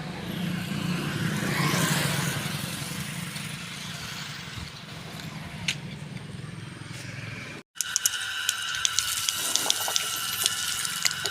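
Water runs steadily while being filled for cattle during summer heat, a continuous rushing flow with a pump-like hum, briefly cutting out before resuming with clattering splashes.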